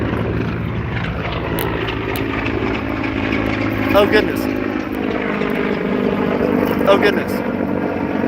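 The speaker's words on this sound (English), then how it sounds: "There's a military helicopter flying over us." A military helicopter passes overhead outdoors at a pool party, its steady rotor and engine drone filling the background throughout, with a louder surge or two as it goes over, while people talk and exclaim nearby.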